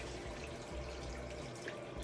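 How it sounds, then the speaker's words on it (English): Water running from a bathroom tap as a face is rinsed during a bedtime skincare routine, a faint, continuous splashing stream. "I rinse my hands on my brush. And I rinse my face."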